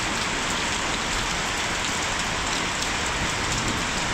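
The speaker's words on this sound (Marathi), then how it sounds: "तगडा असा पाऊस आलाय" Heavy rain pouring steadily on an island in Thailand, a dense, loud, continuous roar of drops hitting surfaces with no pauses and no voices.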